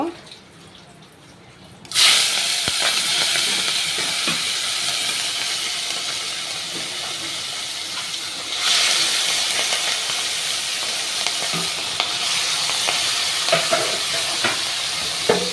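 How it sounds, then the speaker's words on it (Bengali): Salted, turmeric-rubbed prawns hit a hot pan, bursting into a loud, steady sizzle that swells again partway through, with stirring and scraping on top; a voice talks over the frying. "এবার আমি ফার্স্টে চিংড়ি মাছগুলোকে করে নেব, ভেজে নেব।"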